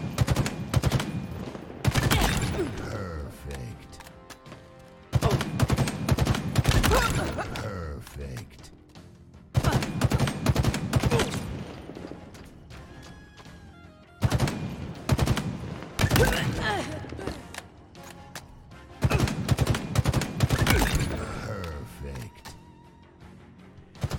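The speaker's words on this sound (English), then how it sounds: "Take note that each time you fire the gun, there is small vertical recoil." Battle Rifle gunfire in the video game Halo Infinite, sounding as loud bursts of rapid shots that repeat roughly every four to five seconds, with short gaps between volleys.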